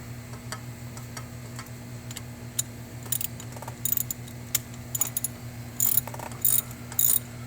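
A ratchet clicks in short bursts while copper nuts are tightened on a Chevy Cruze 1.4L turbo engine, close and fairly quiet over a steady low hum.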